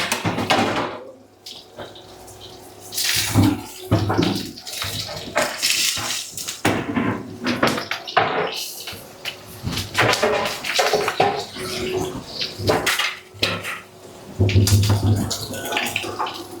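Frying pans being washed under running tap water, a steady splashing flow with clatters of metal and occasional knocks, talk heard throughout.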